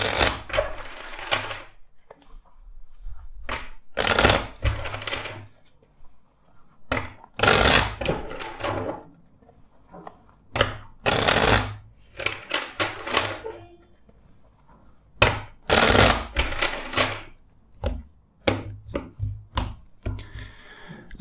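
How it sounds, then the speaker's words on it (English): Tarot cards are shuffled in several separate bursts of riffling and tapping, with brief knocks and pauses between each shuffle, close and fairly crisp. "Let's shuffle the deck four times for you."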